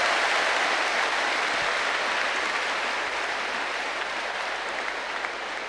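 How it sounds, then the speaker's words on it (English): A class of school children clapping together, a dense, even wash of applause that holds steady throughout, close and fairly loud, with no voices on top. "Clap."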